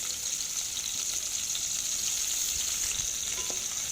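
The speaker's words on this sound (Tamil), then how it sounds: "ஆயில் ஹீட் ஆனோடனே 2 வெங்காயம் ஆட் பண்ணிக்கலாம்." Two medium onions frying in hot oil in a pan for a spicy crab masala, a steady bright sizzle that runs unbroken throughout.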